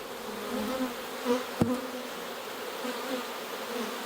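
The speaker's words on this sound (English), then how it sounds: "Got some drones on there. Those are the big, burly looking bees." Bees, including burly drones, hum continuously over an opened hive frame, a thick nearby buzz with one sharp knock midway and small swells, no speech.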